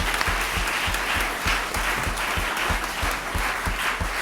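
Audience applause after the second round of a minimum wage debate, a steady patter of clapping with a few sharp, regular nearby claps standing out in front, continuing evenly without voices.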